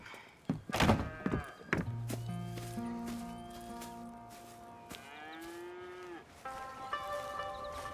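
Cattle moo in long, low drawn-out calls in the video game Red Dead Redemption 2, several overlapping, mixed with thumps and hoof clatter; nobody speaks.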